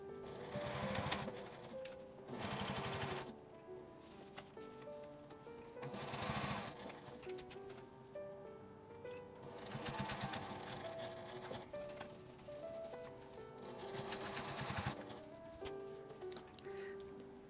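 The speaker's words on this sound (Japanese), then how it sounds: "真ん中くらいから縫い始めてぐるりと1周ミシンをかけます。" A sewing machine running in bursts of rapid mechanical stitching around a small fabric pouch, pausing briefly between runs, fairly close and steady.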